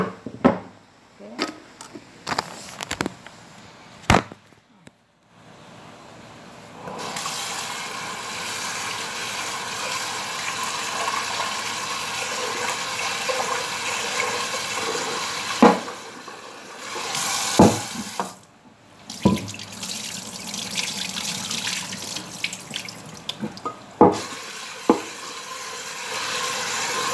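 Rice for fried jadah is washed in a kitchen sink under a running tap, with bursts of splashing and stirring water broken by brief pauses and gaps, fairly close and without talk.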